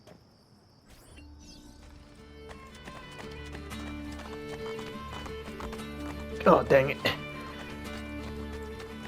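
Horse hooves clip-clop and a horse whinnies in Assassin's Creed Ezio Trilogy game audio over background music, with a man's frustrated exclamation partway through.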